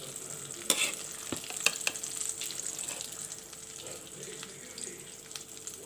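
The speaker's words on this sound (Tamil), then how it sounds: "இப்போ வந்து கொத்தமல்லி போட்டுட்டு லைட்டாக கிண்டிட்டு" A coconut milk rice pulao with ghee and coriander is stirred in the pot, with soft scraping and clinks of a spoon over a faint background hiss, close and fairly quiet.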